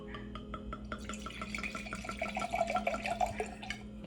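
Liquid pouring into an engraved glass in a home kitchen, a bubbly splashing trickle that gathers and brightens over a few seconds, close and moderately loud with no talk.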